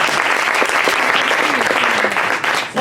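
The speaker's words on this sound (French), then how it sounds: "Sanou, Dara, on applaudit très fort." A live storytelling audience at a French-language performance claps loudly and steadily, dense applause filling the whole stretch with faint voices mixed in.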